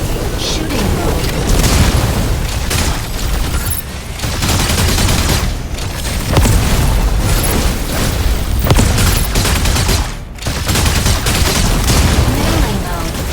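Mech gunfire in shooting mode in the game Mecha Break, dense loud rapid bursts with booming impacts that run almost continuously, briefly pausing, while a voice speaks over the fire.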